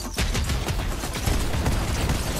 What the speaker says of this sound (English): Why are you shooting at me like that?